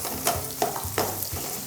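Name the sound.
young radish and pork stir-frying with doenjang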